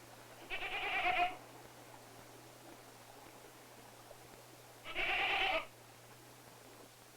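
Two separate goat bleats on the Galapagos Islands, each lasting about a second and spaced several seconds apart, rise clearly over a steady low background hum.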